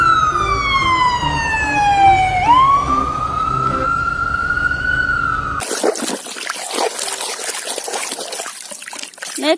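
A red toy ambulance wails its electronic siren in a single loud, close sweep that dips and rises for about five seconds, then cuts off into busy handling noise.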